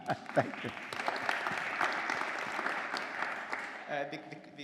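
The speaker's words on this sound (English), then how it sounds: "So another round of applause for his choices of the community." Audience at an economic development keynote event applauding steadily for several seconds before it fades, with a voice speaking briefly at the end.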